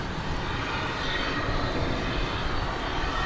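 A steady, loud engine roar from an aircraft at DFW Airport fills a few seconds, a dense unbroken rush of noise with no voices.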